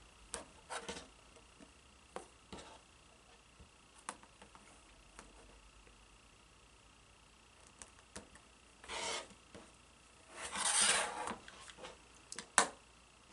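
Fabric is cut along a quilting ruler: faint, sparse scraping and rubbing sounds with one longer rasping cut and a few light clicks, quiet and close, with no talk.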